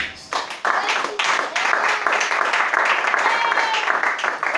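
A church congregation applauds to acclaim the Lord, with dense, close clapping from many hands that starts abruptly and holds steady, while a voice speaks under the applause.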